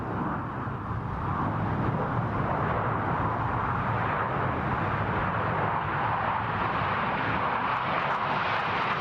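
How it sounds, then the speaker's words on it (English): Blue Angels jets in tight diamond formation roaring past at an air show, a loud, sustained, broadband jet rush that swells and holds steady for several seconds, with no speech. "From the right, The Blue Angel Diamond!"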